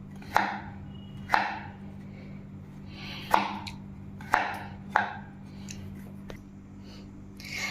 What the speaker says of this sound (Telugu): దీనిని చిన్న చిన్న పీసెస్గా కట్ చేసుకుందాం